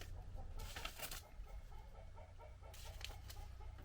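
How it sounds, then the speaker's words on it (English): Chickens cluck softly in the background, a scattered run of short calls over a low, steady outdoor hum. "A lot of clucking going on."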